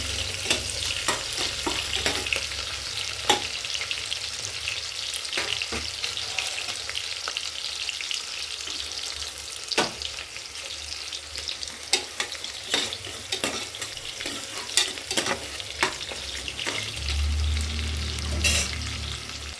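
Onions frying in a pan for mentya bath, a continuous close sizzle and crackle with scattered spatula scrapes and taps throughout, no voices.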